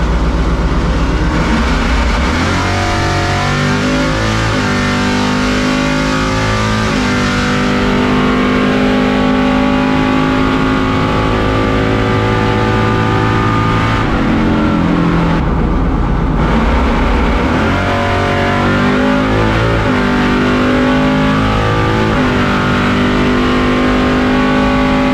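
A 700 hp Chevrolet C10 truck makes a drag racing pass, its engine roaring loud and sustained with rising revs through the gears for about 25 seconds, dipping briefly at a shift midway.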